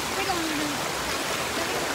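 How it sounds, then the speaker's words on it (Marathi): A rain-fed waterfall pours down at Lonavala under light drizzle, making a steady, dense rushing roar that fills the clip, with a brief voice near the start. "पूर्ण वरून धबधबा पडतोय पावसाचा आणि खूप छोटा रिमझिम पाऊस आहे."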